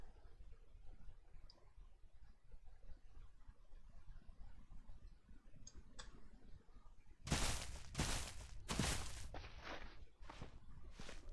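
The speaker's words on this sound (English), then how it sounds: "I thought I heard a footstep up in the distance." Video game footsteps in a pitch-black setting: faint quiet at first, then several crisp, close, evenly spaced steps near the end.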